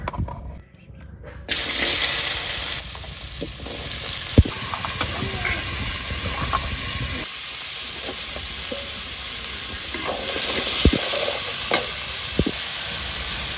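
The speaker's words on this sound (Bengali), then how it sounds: "এই কাঁঠালের দানাগুলো হচ্ছে যে এখন হচ্ছে যে তেলের উপর দিয়ে দিব।" Jackfruit seeds drop into hot oil in a village kitchen, setting off a loud, continuous sizzle with repeated stirring scrapes and knocks throughout, heard up close.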